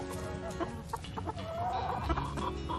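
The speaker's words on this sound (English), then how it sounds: "we'll make a quick stop here at the chicken pen just to show you how much they are growing" Chickens and three roosters clucking in an outdoor chicken pen in Arizona, a busy overlapping chorus of short clucks and calls heard fairly close, with no talking.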